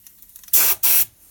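Two sharp, close hissing blasts from a paint spray gun, each roughly a quarter second with a brief gap, as the spray is adjusted for coating a bear figure.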